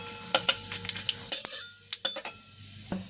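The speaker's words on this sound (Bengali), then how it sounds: "তেলটাও গরম হয়ে গেছে। এবার আমি এতে ফোড়ন দিয়ে দেবো।" Whole five-spice seeds (panch phoron) crackle and sizzle in hot oil, with scattered clinks of a utensil against the pan, fairly close and uneven in rhythm.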